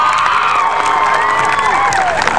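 Graduation ceremony crowd cheering loudly, with whoops and high shouts rising and gliding over a bed of clapping, very close and dense throughout.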